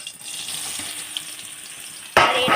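Soybean chunks fry in hot mustard oil in a kadai with a soft, steady close sizzle, then a sudden louder, harsher burst of sputtering near the end.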